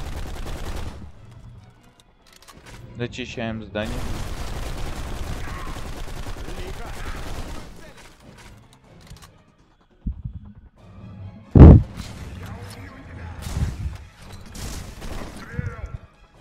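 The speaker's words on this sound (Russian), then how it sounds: "Мощный выстрел, сэр!" Rapid bursts of gunfire from the video game Blacksite: Area 51, with sustained automatic fire and one loud sharp shot standing out, while someone talks over the action.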